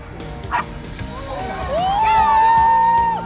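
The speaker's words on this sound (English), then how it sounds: "Approaching a panicked dog is truly challenging." A panicked dog yelps and whimpers close by, with a rising, drawn-out whine at the end, against background voices and crowd noise.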